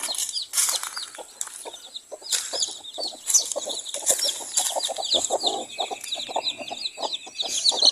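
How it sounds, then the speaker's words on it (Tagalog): Hens cluck repeatedly in a busy farmyard, overlapping calls near and far with bright chirps from other birds throughout. "Meron kasi tayo tatlong inahin dito na namisa."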